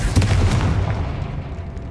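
A fiery Confringo spell explodes in the Hogwarts Legacy video game: a loud, close blast with a deep low boom and a crackling burst that fades out over about two seconds.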